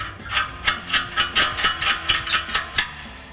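A wrench ratchets while tightening exhaust system bolts on a Toyota Tundra, a steady run of about a dozen evenly spaced metallic clicks, close and clear with no talk.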